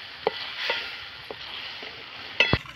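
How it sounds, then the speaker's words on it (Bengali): Papaya pieces are stirred in sugar syrup, giving soft scattered scrapes and light bubbling over a low hiss, with a sharper clatter near the end, close and without voices. "আমি নাড়াচাড়া করে নেব।"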